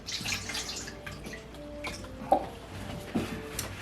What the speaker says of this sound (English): we're just gonna pour the water